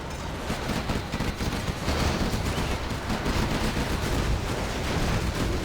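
Chain guns rattle in the real-time strategy game Nuke Wars, a dense continuous roar of rapid automatic fire mixed with battle noise, loud and unbroken throughout.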